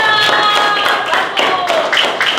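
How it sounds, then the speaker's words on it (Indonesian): A classroom of pupils clapping together for everyone, a steady patter of many hands close by with bright tonal chatter mixed in throughout. "Wah, tepuk tangan untuk semuanya."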